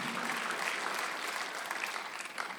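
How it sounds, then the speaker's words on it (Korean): Church congregation at a Korean Sunday worship service applauding, a fairly faint but steady wash of clapping that holds evenly before thinning slightly at the end. "박수하세요"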